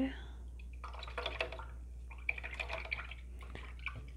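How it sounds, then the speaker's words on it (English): An acrylic paint brush is rinsed in water, giving close, intermittent splashing and dripping in short bursts, with faint talk in places. "I'm just gonna rinse that out."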